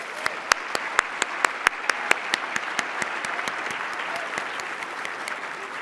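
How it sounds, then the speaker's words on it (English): An audience at the Seattle Chamber annual meeting applauds a Lincoln High School drum line, with sharp individual claps standing out near the mic over a steady wash of crowd clapping that gradually thins. "Let's give the drum line from Lincoln High School a round of applause one more time"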